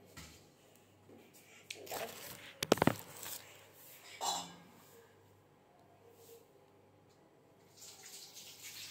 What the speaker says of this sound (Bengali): ফল আমি ধুয়ে নিই এটা।